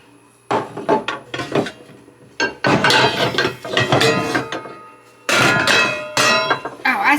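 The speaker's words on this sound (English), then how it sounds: "under this cabinet, they have a lot of pots and pans for us to use" Metal pots and pans clang and knock loudly as a kitchen cabinet is rummaged for a skillet, with bursts of clatter separated by short pauses.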